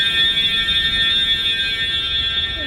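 A fire alarm sounds during a test, a loud, steady electronic tone holding unbroken from start to finish with no voices over it.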